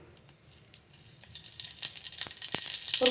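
Green chilies fry in a spoonful of oil, a thin sizzle building after a quiet start into steady close crackling with occasional spatter pops.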